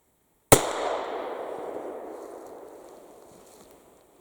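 An 1860s .41 rimfire derringer fires a single sharp crack outdoors after near silence, and the report trails off in a long echoing decay.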